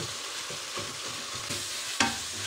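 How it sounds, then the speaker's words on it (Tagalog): Ground beef frying in a pan with tomato and garlic, a steady sizzle under rhythmic stirring scrapes, ending in a sharp knock of the utensil against the pan. "Imikos-mikos natin itong beef hanggang sa mag-render ng fats ang giniling."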